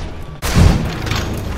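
A dynamite blast in Fallout: New Vegas goes off as one loud, deep boom with a heavy low rumble that rolls on and fades slowly, standing alone with no talk over it.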